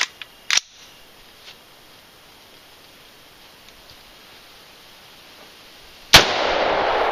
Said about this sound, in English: is a Core 15, semi-automatic, 223, one shot every time you squeeze the trigger.